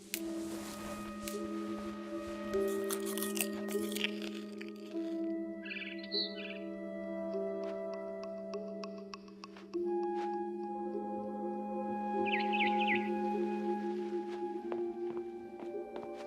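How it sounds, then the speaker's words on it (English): Faint barn swallow chirps in the video game What Remains of Edith Finch come in two short bursts over a steady, layered electronic hum and tonal background. "Then I heard chirping outside my window."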